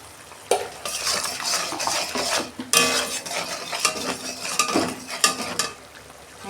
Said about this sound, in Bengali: ভালো করে মশলাটা কষাবো।